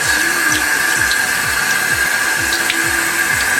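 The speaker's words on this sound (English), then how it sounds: "you want to get rid of this water, right? All that liquid off the lima bean." Cooking liquid being drained off lima beans, a steady pouring and splashing stream of water with a regular gurgling pulse underneath, close and continuous.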